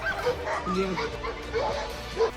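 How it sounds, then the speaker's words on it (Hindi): Dogs bark and yip while confronting a 500-kilogram polar bear, with sharp repeated barks and some whimpering tones mixed with a voice. "ये कुत्ते 500 किलोग्राम भारी पोलर बेयर से ही भिड़ गए"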